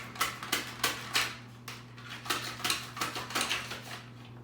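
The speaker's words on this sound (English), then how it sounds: "it's easier to cut it if you make it a small piece of zucchini" Knife slicing a small piece of zucchini in a holder, giving a run of sharp, evenly paced clicks and taps against the board, close and fairly quiet over a low steady hum, with no talk.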